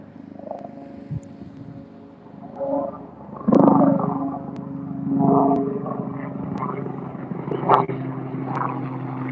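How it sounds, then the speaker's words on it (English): A big helicopter passes overhead during a snowy garden walk, its low rotor throb swelling and fading across the clip with a louder peak midway, while a voice talks over it. "that was a big chopper"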